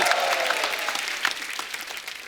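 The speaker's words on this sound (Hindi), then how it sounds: "जोरदार तालियां" A studio audience at a televised comedy talk show breaks into loud applause welcoming actor guests, dense clapping that starts strong and gradually thins over a couple of seconds.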